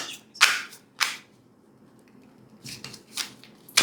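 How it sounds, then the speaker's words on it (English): Tarot cards being shuffled, several crisp riffling bursts spaced apart with quiet gaps between them, close and fairly loud with no talking. "It's the same 2 cards you saw me shuffling"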